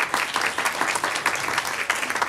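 An EdTech Austin meetup audience applauds, and dense clapping from many hands carries steadily for a couple of seconds without voices over it.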